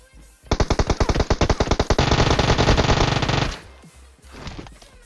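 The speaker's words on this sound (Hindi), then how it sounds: "पहले मैं 2-3 बार M4 से प्री फायर मारता हूँ" M4 rifle fire in a video game: a rapid burst of distinct loud shots, then a dense, sustained stream of automatic fire that stops abruptly, followed by fainter scattered game sounds.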